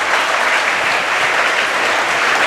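A TV studio audience on the show Charchit Chehre gives an entrepreneur guest a loud, dense burst of applause, continuous and close throughout.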